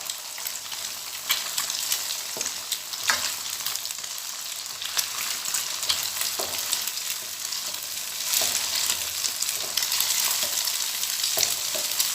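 Eggs stir-fried with yellow leaves in a pan, a steady close crackling sizzle with scraping stirs throughout and no talking.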